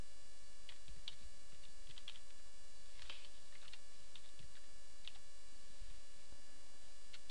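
Keys tapped on a computer keyboard while coding CSS in Dreamweaver, soft irregular clicks in short bursts over a quiet steady hum, no speech.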